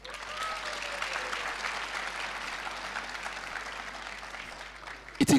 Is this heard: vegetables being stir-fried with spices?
no